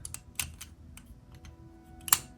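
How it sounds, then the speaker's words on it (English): Metal artifact from an old trunk clicking into place, heard as a few sharp, close clicks and taps over two seconds, ending with one louder snap. "you can hear it clicking in"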